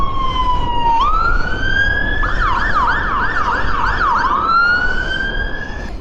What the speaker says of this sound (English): You see the ambulance there.